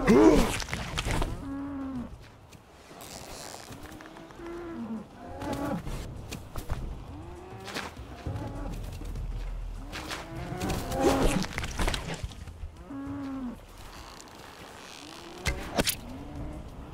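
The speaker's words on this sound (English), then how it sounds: "Let's go kill ourselves a cow." Repeated cow moos from a survival video game, several drawn-out lowing calls spaced through the stretch over a steady game ambience, fairly close and moderately loud.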